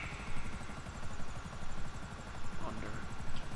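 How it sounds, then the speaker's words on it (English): Helicopter flying in GTA 5, a steady whirring rotor drone that persists throughout at moderate level, with faint game noise over it. "With trying to keep the helicopter in one piece."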